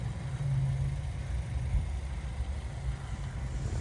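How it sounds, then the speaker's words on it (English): A 2024 Hyundai Elantra engine idling just after starting, a steady low hum that stays even and fairly quiet throughout, with no other sounds. "Let's start the car."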